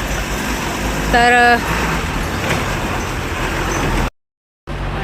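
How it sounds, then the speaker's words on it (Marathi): Road traffic noise with vehicles rumbling past, steady and fairly loud throughout, with a brief tonal horn-like sound early on and a short dropout near the end; someone speaks briefly. "या गाड्या आल्या की जे आपण बोलायला जातो ते विसरूनही जातो आणि आवाज खडखड"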